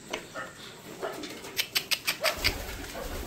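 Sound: pigeons cooing in a pigeon loft

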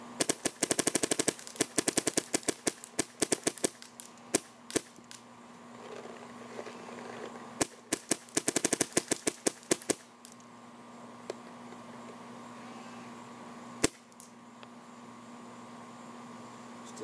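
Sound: Insight NG paintball marker shooting on PSP ramp 12.5

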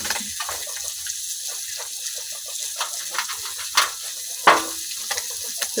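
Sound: khalse fish frying in oil

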